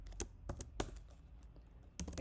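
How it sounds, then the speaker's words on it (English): Quick bursts of keystrokes on a computer keyboard while coding, a few clustered clicks separated by short pauses, close and fairly quiet with no voices. "I'm typing it"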